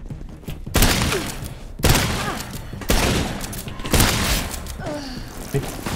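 Shotgun blasts crack out in Resident Evil Re:Verse, four loud shots about a second apart followed by faint game sounds.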